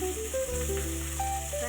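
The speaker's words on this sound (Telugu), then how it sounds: "ఉల్లిగడ్డలు ఇలా దోరగా వేగిన తర్వాత వచ్చేసి కొంచెం కరివేపాకు వేసుకున్నాం ఫ్రెండ్స్." Steady sizzling of curry leaves added to browned onions frying in a pan for chicken curry, a continuous close crackle with faint stirring sounds.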